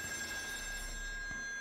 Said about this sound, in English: Where's this phone at? Oh, right here.